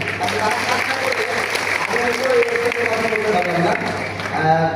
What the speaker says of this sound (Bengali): আমি তাদের জন্য একটু সবার কাছে করতালি চাচ্ছি